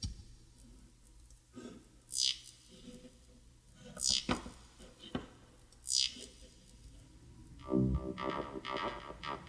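A slow-tempo acid bassline from a synthesizer, sparse distorted squelchy notes with sweeping resonant filter zaps recurring every couple of seconds, fairly quiet, with a denser burst near the end.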